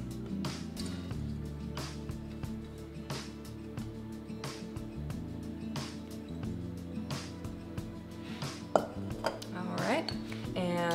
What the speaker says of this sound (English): we are going to add our newly combined chocolate mixture